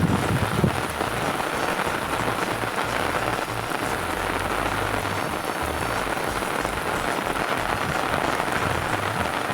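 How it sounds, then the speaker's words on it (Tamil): Heavy rain pouring down in a village, a loud dense steady hiss with pattering drops close by throughout, no voices. "பயங்கரமாக மழை பெய்யுது"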